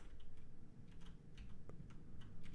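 Computer keyboard and mouse clicking during an X-Plane 11 flight simulator session, a quick irregular run of light clicks and taps close to the mic over a steady low background hum.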